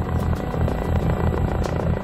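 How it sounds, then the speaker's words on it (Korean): A Korean medical air-ambulance helicopter approaches a hospital helipad, its steady low rotor drone and rhythmic blade chop loud and continuous throughout, with no talking. "서서히 병원을 향해 접근하는 닥터 헬기."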